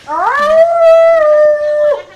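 A dog lets out one loud, sustained howl close by, rising at the start, holding a steady tone for nearly two seconds, then falling away at the end.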